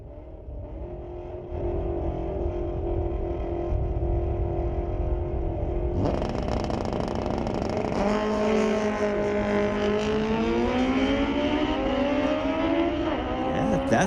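A 2005 Suzuki GSX-R 1000 making a street-legal drag strip run at Mission Raceway Park, its engine roaring loud and continuous, climbing hard through rising revs with pitch shifts between gears as the bike accelerates away.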